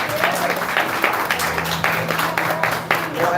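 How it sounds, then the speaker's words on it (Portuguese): A church congregation claps together during a worship service, brisk irregular applause over a sustained musical tone, with a voice faintly underneath. "Vamos aplaudir Jesus para a vida de você."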